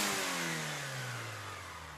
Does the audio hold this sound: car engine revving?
yes